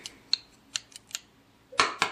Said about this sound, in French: Et ensuite, vous prenez vos bons gros ciseaux.